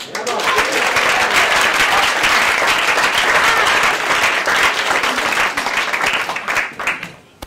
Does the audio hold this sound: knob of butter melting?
no